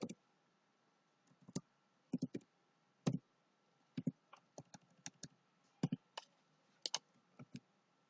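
Faint, sparse clicks of a computer mouse pressing a submit button in a coding tutorial, single and paired taps scattered irregularly over several seconds in a quiet room.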